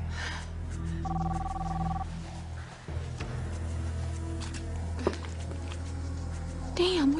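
A phone ring tone trills once in a short electronic burst over a low background hum, followed by a few clicks and a brief voice.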